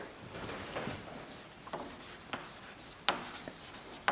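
Someone writes out a chemical equation for sodium chloride reacting with silver nitrate, producing quiet, scattered strokes and taps at irregular intervals, with a few sharper ticks near the end and no talk.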